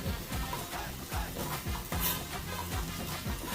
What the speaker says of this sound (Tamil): மஞ்சள் போட்டு வதக்குறோம்